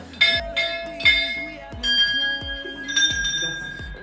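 Large golden temple bell rung repeatedly at a Hindu temple, several bright metallic strikes with long ringing tones that overlap and linger, loud and close.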